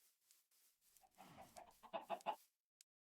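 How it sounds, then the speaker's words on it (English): Chickens cluck in a farming video game, a few soft calls building into three louder, closely spaced clucks near the end, followed by a short faint peep. "I'm actually going to get a couple of chickens."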